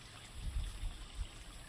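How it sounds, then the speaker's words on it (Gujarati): Water trickles and flows out from beneath a Khodiyar temple at Nera, a soft, close, continuous babble with a few slightly louder gurgles. "કાયદેસરનું અંદરથી જ આવે છે પાણી"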